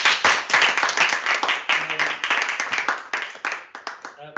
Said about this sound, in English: give our three panelists, Alexa, Bogumila and Raquel, a warm round of applause